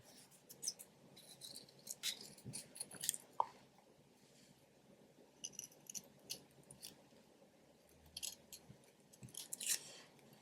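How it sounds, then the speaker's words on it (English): Scissors snip through accordion-folded crepe paper in a quiet room, a few short crisp cuts scattered irregularly with small rustles of paper between them. "This time I'm going to cut one with a slit."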